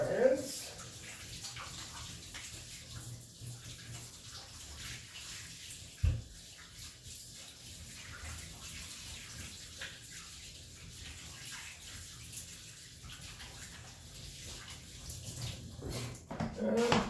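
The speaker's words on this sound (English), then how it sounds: "Wash my hands." Tap water runs steadily into a kitchen sink while hands are rinsed during bread making, a soft continuous wash with a louder splash near the start and end, under faint talk.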